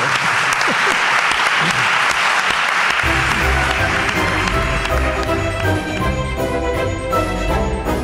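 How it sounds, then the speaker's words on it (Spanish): A live audience at a Málaga history talk gives a short burst of applause, dense and loud for about three seconds before music with a steady beat takes over and continues under fading claps. "¿Le podéis dar un aplauso corto a Juan Ignacio también como su estudiantes?"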